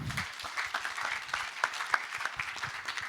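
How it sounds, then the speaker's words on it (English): A modest audience claps in a scattered, moderately paced patter of individual hand claps, fairly close and continuing throughout. "a resounding applause"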